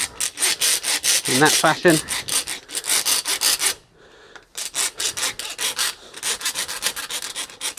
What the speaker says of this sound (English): So there's 2 ways to rasp a heel check out.